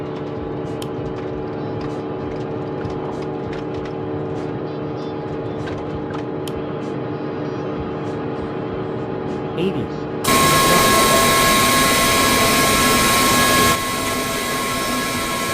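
An Airbus A320 begins its takeoff roll in Real Flight Simulator, a steady engine hum giving way abruptly to a loud, broad roar with whining tones that holds for several seconds, then eases slightly.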